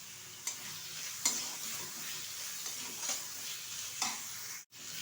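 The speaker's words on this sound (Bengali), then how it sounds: "ভালোভাবে কষিয়ে নেব। দিয়ে দিচ্ছি ভেজে রাখা কিছুটা বাদাম।" Spice paste with a handful of fried peanuts being stir-fried in a pan while cooking taro greens with coconut, giving a low, steady sizzle broken by a few sharp scraping stirs, with no talking.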